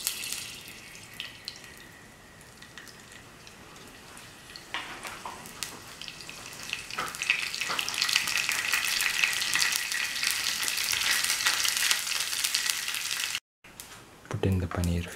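Paneer fingers coated in crumbs fry in a shallow layer of oil in a pan, giving a steady sizzle that grows louder and denser partway through, with a brief cut near the end.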